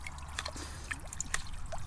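Water trickles and drips steadily and faintly into a garden pond as it is topped up, with small splashes over a soft continuous background.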